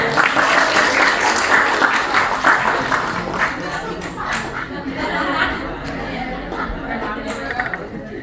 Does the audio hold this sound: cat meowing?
no